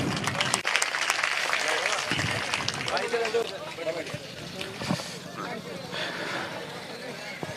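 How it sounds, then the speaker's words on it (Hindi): Loud clapping greets a leader being honored with a turban at a village public meeting in Tolasar, Sardarshahar, a dense burst that fades after a few seconds into crowd murmur and voices. "जोरदार तालियों से स्वागत।"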